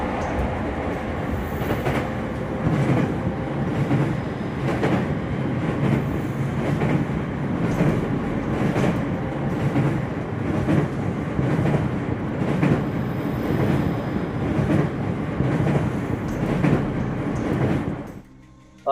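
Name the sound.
train passing by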